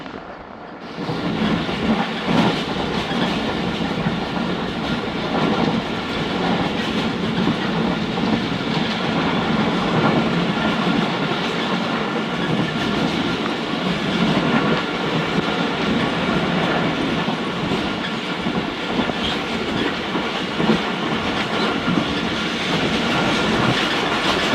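A steady, loud rumble of the Khyber Mail passenger train rolling along the tracks in Pakistan, wheels clattering continuously throughout with no talking.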